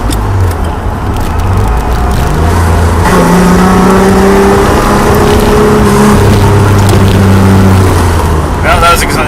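A Datsun 240Z engine drones loudly from inside the cabin in heavy commuter traffic, with a steady low hum and a gear change partway through, some shifting of pitch, and a clatter near the end.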